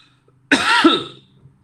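A single short cough, close and fairly loud, in otherwise quiet surroundings.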